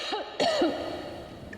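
A short burst of throaty video game coughing and throat clearing from Metro Exodus, close and fairly loud, in two quick bouts followed by quieter background.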